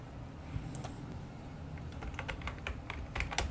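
Someone types on a computer keyboard in MS Word, producing quick, irregular clicks close by, soft at first and then in faster bursts over a low background hum.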